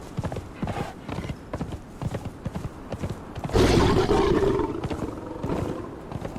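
Horse hooves clip-clopping in the video game Conan Exiles on the Isle of Siptah, a steady rapid rhythm of close, clear hoofbeats with a louder roaring surge midway.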